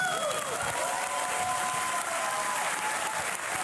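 Steady applause from a conference audience after a talk at a DevOps event, dense and continuous clapping throughout with a faint voice rising briefly above it.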